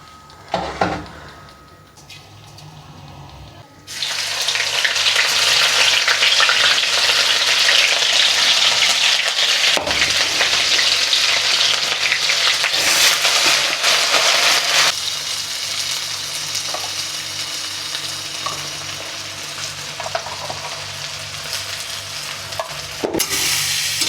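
Mixed vegetables, cauliflower, potato and green peas, hit a hot pan after a few quiet seconds, then fry with a loud, continuous close sizzle and occasional stirring clatters that ease off slightly toward the end.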